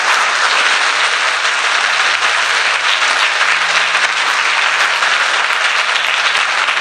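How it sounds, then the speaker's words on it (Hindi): A church congregation applauds loudly at a Hindi worship service, a dense, steady wash of clapping from many hands that holds at full volume throughout with no pauses. "आइए यीशु के लिए जोरदार ताली बजाएंगे।"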